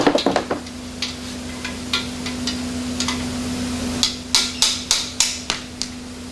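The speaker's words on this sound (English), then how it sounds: "So we're going to nudge those out with a hammer." A hammer taps stuck lifters out of the back of an AMC 304 V8 engine block, giving a string of sharp metallic knocks. They come in an uneven rhythm, with a quicker run of blows near the end.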